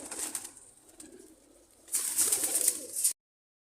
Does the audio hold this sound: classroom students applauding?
no